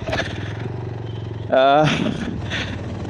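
A GPX Demon motorcycle with a modified exhaust idles with a deep, steady throb, then rises in a short rev. Someone talks over the engine throughout.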